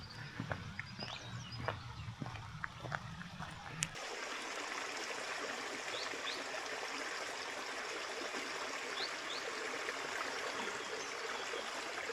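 A forest brook trickles steadily and softly under open woodland air, with a few faint footfall-like knocks in the first few seconds before the water sound fills in evenly and continuously.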